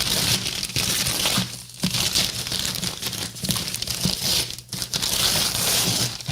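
Gift wrapping paper crumples and tears loudly and close up as a birthday present is unwrapped, a continuous dense crinkling with sharper ripping bursts and brief pauses.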